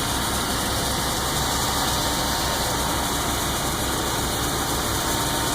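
A GM car engine idles after a cold start at -12 F, a loud, steady, rumbling drone with constant vibration and no voices.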